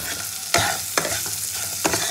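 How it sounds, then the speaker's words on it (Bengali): Ingredients seasoned with salt and sugar fry for butter paneer, with a steady low sizzle broken by three sharp stirring scrapes, close and moderately loud, no talking. "হালকা করে একটু ভেজে নেবো"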